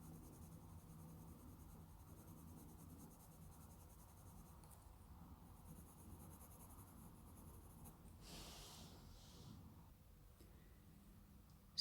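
Colored pencil scratches across Strathmore 500 Series Bristol vellum paper in soft, close strokes, a faint continuous rasp with a brief brighter scrub partway through and no talking.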